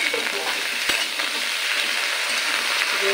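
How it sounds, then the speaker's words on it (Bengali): Mixed vegetables, including pointed gourd, ridge gourd, drumstick and pumpkin, sizzle and fry in a pan for Bangal datar chochori while being stirred, a dense, continuous crackle heard close with no talking. "এবার নেড়ে নেব।"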